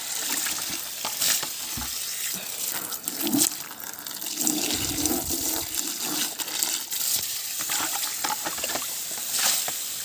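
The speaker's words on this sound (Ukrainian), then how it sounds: "Відро помию і поставлю їм водичку." A bucket is washed with running water while ducklings are being moved to winter quarters, with splashing, trickling and occasional knocks of the bucket, close and continuous for about ten seconds.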